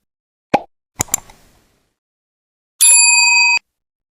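Notification bell sound effect: a few soft plops and clicks, then a bright, clean ding ringing for under a second before cutting off abruptly, with no other sound.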